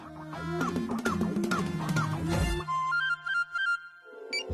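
A phone call placed on speaker on a televised dance show, where a dense musical passage gives way to a short beeping ringback melody of repeated tones.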